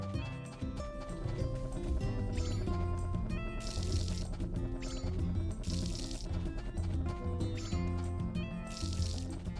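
Watering crops on a farm in Story of Seasons: A Wonderful Life, several splashy liquid pours in a rhythmic series over cheerful background music.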